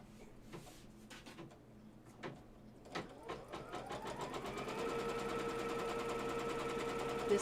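An embroidery machine stitches down an in-the-hoop quatrefoil quilt block. A few clicks and knocks come first, then the machine settles into a steady, close, whirring run of rapid stitching with a rising whine.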